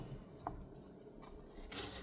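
A knife cuts vegetables into small square pieces on a board while chilli garlic macaroni is being prepared, giving a few soft, quiet chops and taps with no one talking.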